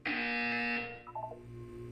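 A buzzer in a Portal 2 test chamber: a loud, harsh, sustained electronic buzz lasting about three quarters of a second, cut off abruptly and followed by a low lingering hum with a few faint tones.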